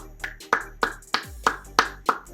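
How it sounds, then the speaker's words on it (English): Slow, evenly spaced claps, about seven sharp hand strikes from what sounds like a single nearby person, close and alone, for the winner of a trivia game night. "Big round of applause for Lawrence of Arabia."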